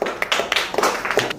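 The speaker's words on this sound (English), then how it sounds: "Clap for Suraj." Children in a kindergarten class clap for a classmate, a short close burst of uneven, quick claps from several small hands.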